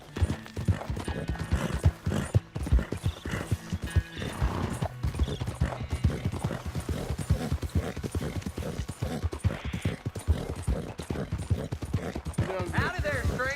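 Horse hooves clip-clop steadily on a path in the video game Red Dead Redemption 2, a close, rhythmic series of hoof strikes with occasional whinnies and in-game talk over them.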